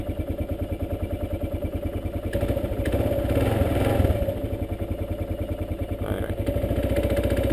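A motorbike on a long-distance Alaska trip runs with a steady, close, pulsing engine rhythm and a clattery mechanical edge from a noisy gearbox, swelling briefly mid-clip. A voice says a single word.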